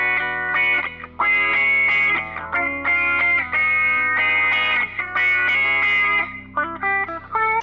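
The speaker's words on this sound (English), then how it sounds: "There's also silly ones like this wah." Electric guitar played through a wah effect tone in the Rocksmith+ video game, a short riff of sustained, sweeping notes with a vocal, filtered quality, alone and prominent.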